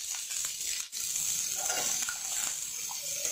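Onions sautéing in a kadai for a restaurant-style kadai mushroom dish give a steady, quiet sizzle, with soft scrapes of stirring and one brief dip near the start.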